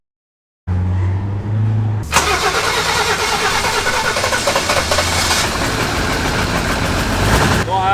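A car engine cranks and catches after a short silence, revving rough and loud before settling into a steady, throaty idle that runs on close by, at a motorsport festival.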